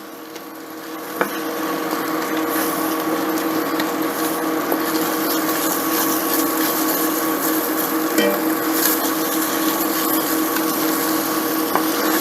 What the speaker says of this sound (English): Give it a little stir, spread it out again.